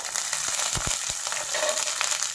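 Slit green chillies sizzle steadily in hot oil in a pan while cooking a Kerala-style mushroom curry, with a constant close hiss and a few soft low knocks from stirring.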